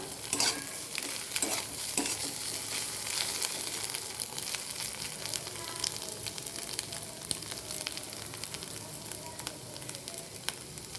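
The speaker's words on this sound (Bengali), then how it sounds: "এর মধ্যে ভেজে রাখা আলু আর ডিম দিয়ে দিব। ভালো করে নাড়াচাড়া করে নেব।" Fried potatoes and egg are stirred in a sizzling pan, a steady close frying hiss with repeated spatula scrapes and clinks throughout, no talking.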